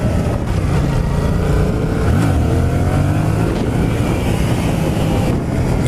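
A Yamaha MT-07 motorcycle engine during stunt riding drones loud and continuous, rising and falling in pitch as the throttle is worked, with heavy wind rush throughout and no talk.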